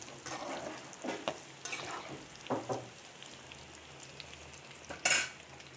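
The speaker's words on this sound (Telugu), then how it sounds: "వెల్లుల్లిపాయలు ఒక 20 రెమ్మలపాయలు వేసుకుని కొంచెం దోరగా వేపుదాం" About twenty garlic cloves frying in oil until golden for a green chilli and sesame chutney: a continuous close sizzle broken by scraping stirs of a spoon in the pan.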